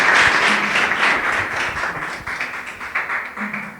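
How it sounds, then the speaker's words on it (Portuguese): A church congregation claps their hands together at a worship service, a dense irregular patter with a voice calling out faintly underneath. "Louve ao Senhor com suas palmas"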